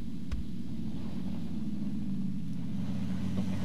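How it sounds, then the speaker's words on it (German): Car engine droning in the video game PUBG, a steady, loud low rumble of a vehicle driving nearby that holds constant throughout with no talk. "Noch ein Auto."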